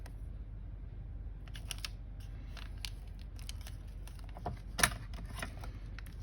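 Scissors trimming paper for a handmade journal produce a few scattered quiet snips and clicks against a near-silent background, one crisper snip standing out near the end.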